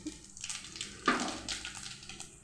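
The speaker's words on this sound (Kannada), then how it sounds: "ಆಲ್ರೆಡಿ ಆಯಿಲ್ ಗರಮ್ ಇದೆ ಇವಾಗ ಜೀರಿಗೆ ಸಾಸಿವೆ ಹಾಕ್ತಾಯಿದ್ದೀನಿ" Cumin and mustard seeds dropped into already hot oil, a soft crackling sizzle with a brighter burst of spitting about a second in, faint and close, with no voice over it.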